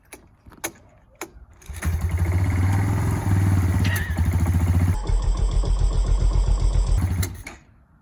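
A Kawasaki Bayou ATV that sat unused for years cranks a few times, then catches and runs roughly. The engine's rapid chugging swells, dips and holds at close range before fading out.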